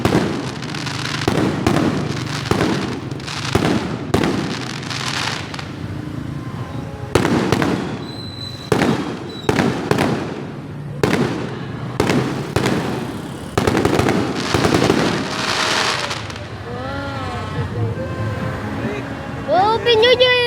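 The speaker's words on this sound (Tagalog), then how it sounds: "New Year fireworks" New Year fireworks burst in repeated loud, sharp explosions and crackles, spaced a second or two apart with some rapid clusters, while people talk and call out in the background.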